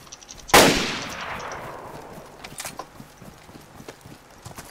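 A single loud gunshot rings out in DayZ with a long echoing decay, followed by faint scattered clicks and small ambient noises; no one speaks.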